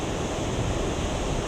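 Sea waves wash steadily around the exposed ribs of a shipwreck on a South Wales beach, a continuous broadband surf rush with no distinct breaks, close and fairly loud.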